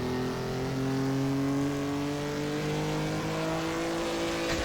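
A Maserati 250F racing car engine runs steadily in third gear, a loud, smooth, sustained mechanical drone with a slowly rising pitch, heard alone without voices.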